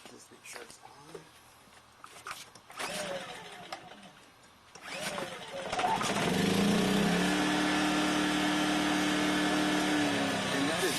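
A Yamaha EF2000iS portable generator running on propane starts partway through, then settles into a steady, loud, close engine hum after some quieter clicks and handling sounds.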